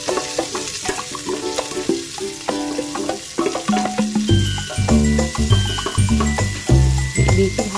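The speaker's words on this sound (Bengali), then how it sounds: "পেঁয়াজটা দিয়েও এবার নেড়ে চেড়ে নিই" Onion stirred and fried in a pan for a low-oil mutton stew with winter vegetables: loud sizzling with repeated spoon scrapes and clatters, close up, growing more rhythmic toward the end, no talking.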